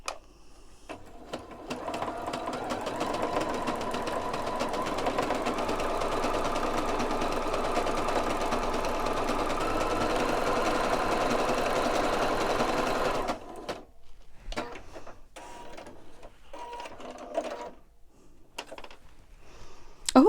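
Sewing machine stitching a wavy quilting stitch with twin needles, a fast steady whirring run lasting about thirteen seconds, then stopping, followed by a few faint clicks and handling noises.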